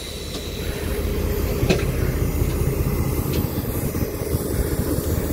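The CT273 steam locomotive, hauling a special Chu-Kuang train with a black power baggage car and six automatic-door coaches behind an R167 diesel, pulls into Yuli station with a continuous low rolling rumble and a few faint clanks.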